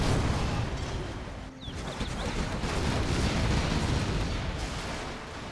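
Battleship shells pounding a refinery in the strategy game Zero Hour, a dense, continuous roar of distant artillery blasts and rumbling explosions blending into one heavy wash, with a brief dip partway through.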